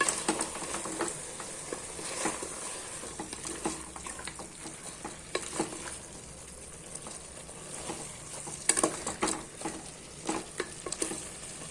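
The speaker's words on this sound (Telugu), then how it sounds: "ఇందులోనే 2 స్పూన్లు జింజర్ గార్లిక్ పేస్ట్, అల్లం వెల్లుల్లి వేసి బాగా కలుపుకోవాలి" Ginger garlic paste being stirred into a pot of hot oil for chicken biryani, a steady soft sizzle with repeated scraping strokes of a spoon running throughout.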